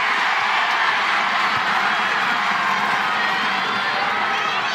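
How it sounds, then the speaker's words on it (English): Women's college basketball arena crowd in a North Carolina vs NC State game, on its feet and cheering in a dense, steady roar that fills the whole stretch without letup. "NC State needs a stop right here because the crowd is on their feet."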